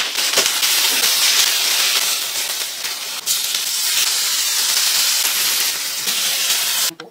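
Marinated pork sizzles loudly in oil in a pan with a broad, steady hiss. One sharp crackle comes partway through, and the sound cuts off near the end. No one talks.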